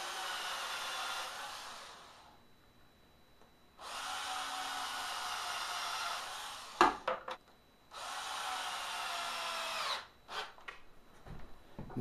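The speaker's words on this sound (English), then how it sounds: "I'll carefully pre-drill and put 2 small screws in top and bottom" A power drill pre-drilling screw holes in wood whirs in two sustained bursts with pauses between, each ending in brief clicks and knocks as the tool stops.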